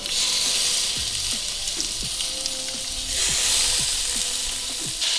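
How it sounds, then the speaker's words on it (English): Steady, loud sizzling of chicken on a hot grill, a dense hiss with occasional small pops and scraping clicks, close by with no talking. "The grill is ready. That sizzle, boy."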